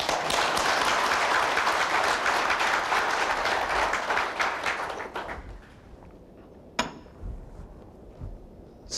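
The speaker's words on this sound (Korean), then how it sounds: "박수 한번 치십시오." Audience applause at a lecture by Roh Moo-hyun, then Democratic Party senior adviser: dense, steady clapping for about five seconds that thins and fades, leaving a quiet room with a few isolated claps and small knocks.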